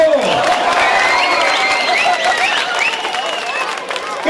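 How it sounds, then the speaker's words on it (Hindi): Dense crowd applause and cheering fill a political rally gathering, a loud sustained wash of clapping with whistles and shouts rising over it throughout. "ठोको ठोको ताली ठोको"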